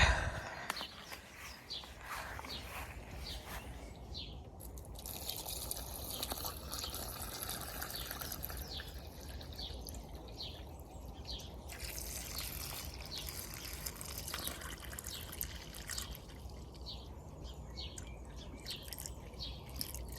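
Water poured into a potted plant fitted with wicking cord in a home garden, a steady trickling and dribbling of liquid for twenty seconds with faint outdoor background.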